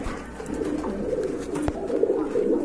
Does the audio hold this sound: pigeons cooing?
yes